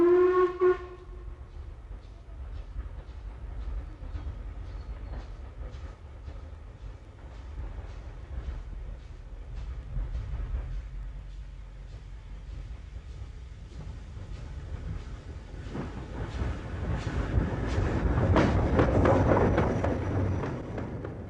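A Riddles 2-10-0 steam locomotive on the Mid-Hants Railway gives a short whistle blast at the start, then runs on with a steady rumble and rhythmic chuffing that swells louder near the end.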